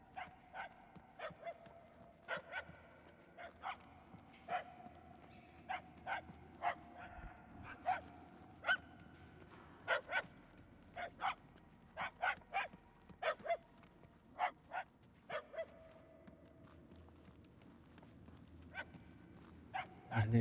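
A puppy barks repeatedly in Marvel's Guardians of the Galaxy video game, many short yaps in irregular bursts, some clustered, over a low rumbling game backdrop with faint voices.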